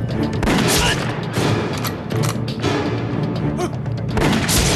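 Gunfire rings out in an anti-Japanese war kung fu film, a rapid fusillade of loud, sharp cracks and booms in bursts over a constant noisy scene.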